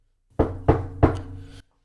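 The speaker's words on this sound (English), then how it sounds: "And then I'm going to knock on wood." Three quick, close knocks of knuckles on wood in an even rhythm, each a solid, resonant thump that fades briefly, with silence before and after.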